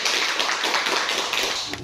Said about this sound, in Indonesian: tepuk tangan untuk kelompok Thomas Alva Edison